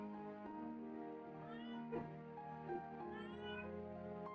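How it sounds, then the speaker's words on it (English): A loud, vocal house cat meows indoors in long, drawn-out calls that rise and fall, two or three yowls in close succession with no one talking. "You can maybe hear our cat yelling at us."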